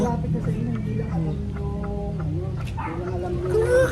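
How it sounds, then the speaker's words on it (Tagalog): Chickens clucking in short scattered bursts close by, mixed with people talking over them. "Eh, may manok sila"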